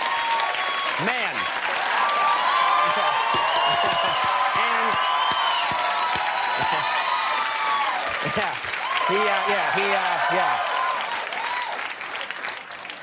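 A late-night television studio audience applauds and cheers steadily at the host's farewell episode of Late Night in 2009, with whoops and shouts rising over the sustained clapping. Brief talk comes through near the middle.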